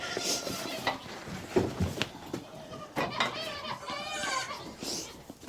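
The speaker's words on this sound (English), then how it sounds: "Baby goats! Hey, baby goats!" Young Nigerian goat kids bleat in short, high-pitched cries, several overlapping at moderate distance, with faint clattering and rustling around them.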